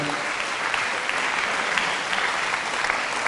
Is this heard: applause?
yes